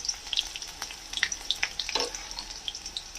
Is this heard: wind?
no